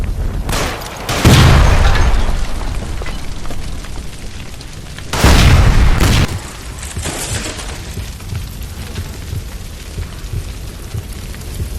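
A gas line blown apart by gunfire in L.A. Noire, two loud rumbling booms about four seconds apart, each a deep burst that fades into a steady low roar, with no talking.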